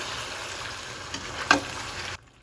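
Chicken tossed with dry red chilies and pepper powder sizzles in a hot pan, a dense steady hiss with a sharp scrape of the spoon near the end before it cuts off.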